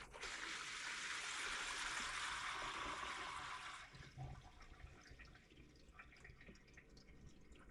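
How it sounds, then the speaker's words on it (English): Brine water is poured off vegetables soaked overnight for giardiniera, a steady loud rush of water into a sink for about four seconds, then tapering to faint drips and trickles. "what I'm doing now is pouring the water off"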